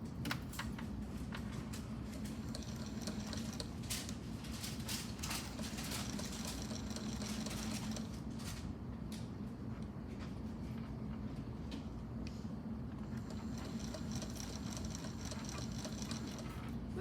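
A quiet sewing machine stitches quilt binding at a steady, continuous hum with a fast mechanical rhythm, with scattered faint clicks and handling noises throughout.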